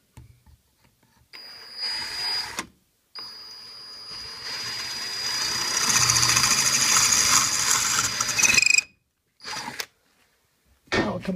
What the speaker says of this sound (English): So you just aim your drill bit, get it started flat.